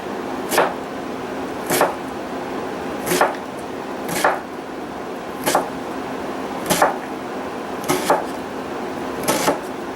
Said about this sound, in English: we're chopping the onion and celery